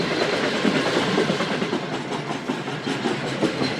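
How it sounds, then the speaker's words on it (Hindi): Shalimar Express passenger train running on rails past Chandigarh station at dusk, a steady rumbling roll with rhythmic clickety-clack of wheels over rail joints, heard from inside the moving train. "और चंडीगढ़ रेलवे स्टेशन पास हो रही है ट्रेन"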